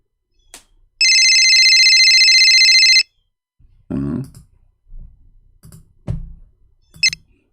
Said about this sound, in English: This is his cell phone.